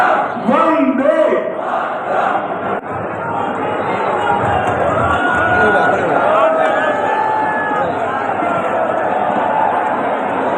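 Huge crowd at a rally chanting slogans, a dense, loud roar of many voices shouting together throughout, steady and close, with individual shouts rising above the mass.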